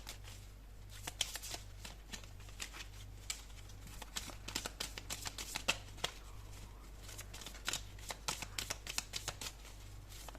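Tarot cards are shuffled during a horoscope reading: a steady stream of crisp riffling and slapping clicks, close and fairly quiet, with no voices.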